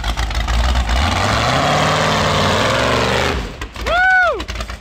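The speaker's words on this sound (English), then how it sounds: "Sounds like a fun, like pro stock drag car out here." A pro stock drag race car engine idles loudly and close at an off-road park, its deep, steady rumble filling the first few seconds before it cuts out and people shout over a short burst of noise.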